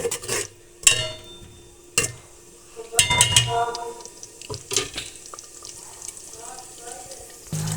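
Radish pieces frying in spiced masala for a pea and potato sabzi, with a steady sizzle broken by several sharp spoon scrapes and stirs against the pan, close by and under occasional talk.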